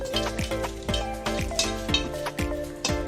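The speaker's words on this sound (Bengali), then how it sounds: "শুকনো লঙ্কাটাকে এরকম করে একটু নেড়ে চেড়ে ভেজে নেব।" Dry red chillies are stirred and roasted in a dry pan, with a rhythmic series of close scraping, rattling strokes repeating about every half second.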